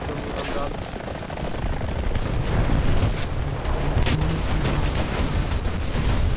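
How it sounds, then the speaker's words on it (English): Gunfire from the combat video game War Thunder, with dense, continuous bursts of shots and booms filling the whole stretch at a steady, loud level; a voice is present in the mix. "Seems to be people shooting at you."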